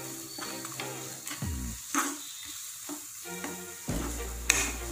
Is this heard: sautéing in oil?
yes